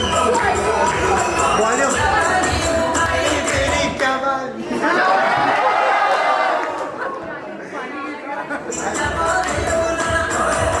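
Audience at a school Class 12 graduation day performance in a hall, a loud, steady wash of crowd chatter and cheering with scattered shouts, dipping briefly before swelling again.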